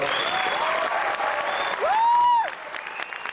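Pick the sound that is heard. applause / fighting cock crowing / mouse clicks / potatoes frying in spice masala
applause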